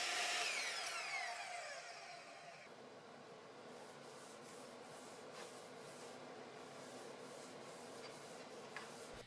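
Sanding of awkward corner trim molding pieces at a mobile workbench with a gap stop: a louder sander burst at the start settles into a steady, softer abrasive whir, with a couple of light knocks, and no talk.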